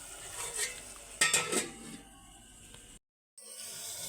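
A metal lid clatters onto a cooking pot of masala for small-prawn pulao, a few sharp clinks in quick succession over a soft background hiss, followed by a brief dropout.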